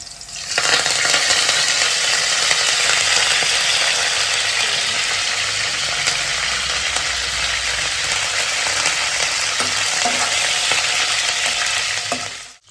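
Onions and curry leaves frying in oil for egg masala make a loud, dense, continuous sizzle close up, with faint scraping of a utensil now and then.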